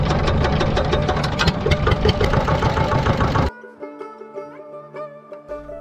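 A boat engine on the Padma river chugs loudly and steadily for a few seconds, then cuts abruptly to a much quieter, thinner mechanical hum.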